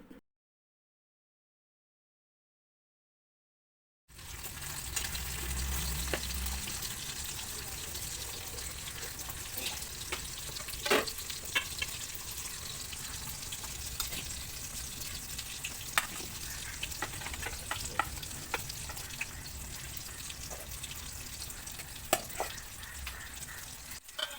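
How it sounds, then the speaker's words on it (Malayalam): Fish sizzles steadily in a hot pan, a constant crackling hiss with occasional sharper pops, starting after a few seconds of silence. "ഒരടുപ്പിൽ ഞാൻ മീൻ പൊരിക്കാനും വെച്ച് കൊടുത്തിട്ടുണ്ട്"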